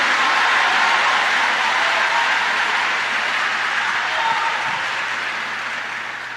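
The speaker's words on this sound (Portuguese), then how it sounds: "se é para aplaudir é todo mundo junto de uma vez só" A church congregation applauds together during a service: a thick wash of many hands clapping at once, sustained and loud at first, then tapering off gradually toward the end over a faint low hum.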